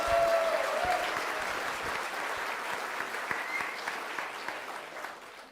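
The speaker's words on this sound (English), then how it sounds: "Let's have a round of applause for them." An audience at a Canada Day event applauds a panel of speakers, a steady wash of many hands clapping that holds for several seconds before slowly fading near the end.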